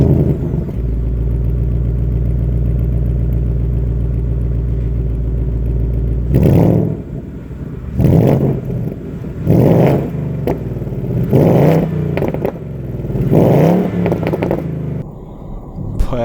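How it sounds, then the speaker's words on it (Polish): A Ford Mustang Bullitt with a 5.0 V8 and its exhaust: a loud, close, deep idle burble, then a run of sharp revs that rise and fall in repeated bursts. "tutaj gra silnik wraz z fenomenalnym układem wydechowym"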